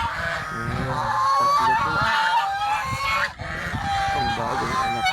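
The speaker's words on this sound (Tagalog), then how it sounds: "po natin gansa. Ang ingay." A flock of white farm geese with newly hatched goslings honks loudly and repeatedly up close, a noisy overlapping chorus throughout, with a person speaking briefly over it.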